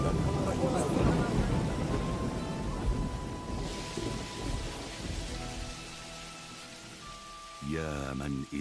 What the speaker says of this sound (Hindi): मुबारक हो बारिश।